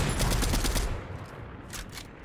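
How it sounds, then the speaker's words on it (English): Rapid automatic gunfire bursts from a Marvel Avengers video game, loud and dense at the start, then easing into sparser scattered shots near the end, with no talking. "People don't care if I shoot at them."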